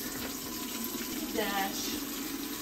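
Warm water runs steadily from a tap in an Airbnb under renovation, a continuous close hiss and splash that holds for the whole moment, with a brief word spoken over it.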